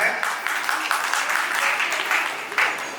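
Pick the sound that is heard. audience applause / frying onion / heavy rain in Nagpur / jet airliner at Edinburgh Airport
audience applause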